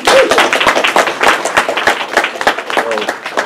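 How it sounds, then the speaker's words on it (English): A room audience applauds panelists at a talk on reclaimed factories and worker cooperatives: a dense, close burst of clapping with distinct hand claps, lasting a few seconds, with a voice briefly audible under it. "give the panelists a round of applause"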